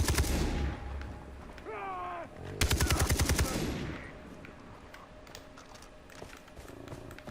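Rapid automatic gunfire from the video game Far Cry 3, a loud burst of evenly spaced shots in the middle, with game sounds and an animal-like cry before it and quieter ambience after.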